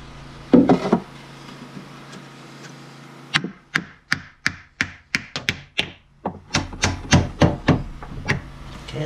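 Nails being hammered into a wooden piece on a roundhouse window frame, a burst of about fifteen sharp, close hammer blows in quick rhythmic runs after a short scrape and pause.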